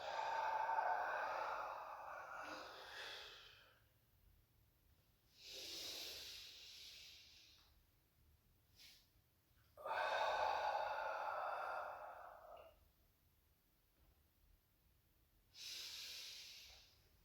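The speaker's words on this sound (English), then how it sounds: "2 more breaths" Slow, deep breaths drawn during a seated chair yoga session: four long airy inhales and exhales, close and fairly soft, each lasting a couple of seconds and separated by quiet pauses, with no talking.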